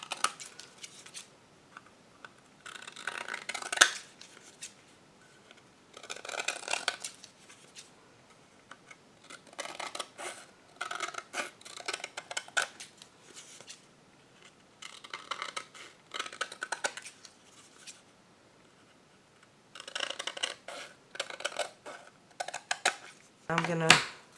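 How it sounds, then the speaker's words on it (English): Scissors or a blade trimming around the edges of a double-sided wooden thank-you tag, with soft, faint snipping and scraping in irregular bursts and pauses, close by and quiet. "I'm just going to cut around these edges."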